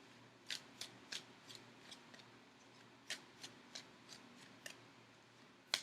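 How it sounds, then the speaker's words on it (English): Faint, crisp tarot card slaps repeat at an uneven pace during shuffling, each a sharp papery tick over a quiet background hum. "now shuffling the cards."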